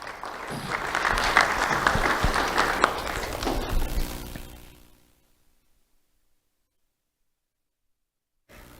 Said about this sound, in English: Let's have a round of applause for Kendall Stoops.